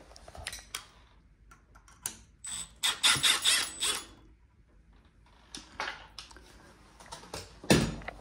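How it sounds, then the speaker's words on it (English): A plumber's screwdriver undoes the side screws on wall plates, making close, intermittent ratcheting clicks and short bursts of rapid mechanical ticking separated by quiet gaps. "Just got to remove these wall plates with the screws on the side."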